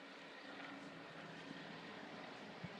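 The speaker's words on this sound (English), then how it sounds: "I can still hear the helicopter" A helicopter flies in the distance during an apparent search, heard as a steady, faint broadband drone that holds for the whole stretch with no other clear sounds.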